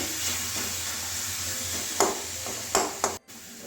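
Carrot laddu mixture sizzles steadily in a pan as its water cooks off, with a few scraping stirs of a spoon breaking through the hiss and a brief drop near the end.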